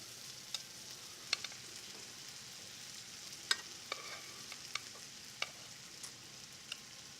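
Scallops searing in a hot pan give a faint, steady sizzle with scattered sharp pops and crackles, no voices over it.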